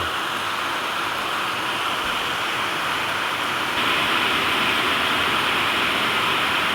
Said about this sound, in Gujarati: વરસાદ આવી રીતે સતત શરૂ જ છે.